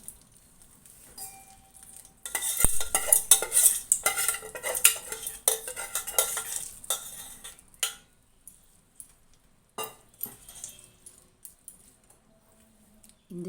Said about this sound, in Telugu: ఇప్పుడు ఈ అన్నంలో తాలింపు వేసుకుందాము.